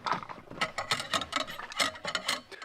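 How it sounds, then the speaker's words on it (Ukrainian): Bolt carrier of a Serbu rifle being opened, giving a rapid series of close, sharp metallic clicks and ratcheting clacks over about three seconds, with no talking. "затворна рама відкривається"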